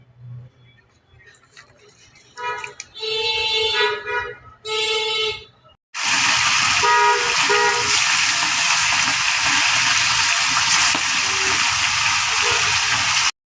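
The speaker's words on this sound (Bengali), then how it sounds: "মাছগুলোকে এক এক করে ভেজে নিচ্ছি" Parshe fish pieces go into hot oil one after another, with short bursts of sizzling at first, then a loud, continuous spitting fry that fills the rest of the clip.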